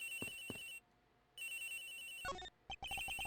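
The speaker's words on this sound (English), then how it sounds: "The ringing is coming from somewhere around here." Phone ringing in the Ace Attorney Investigations video game: repeated electronic ringtone bursts with short gaps, loud and clear with no talk over it.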